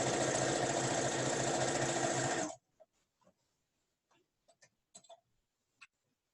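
A sewing machine stitches a hood in a fast, steady, buzzing run for a couple of seconds, then stops abruptly, leaving near silence broken by a few faint clicks and small handling taps.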